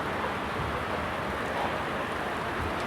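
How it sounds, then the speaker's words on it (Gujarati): Rain pouring over flooded farm fields during a thunderstorm, a steady, dense hiss of falling water with a faint low rumble, continuous and fairly soft, with no voices. "જો અત્યારે છે વરસાદ ગાજે છે મિત્રો, બીજી રીતનો ગાજે છે મિત્રો અત્યારે વરસાદ."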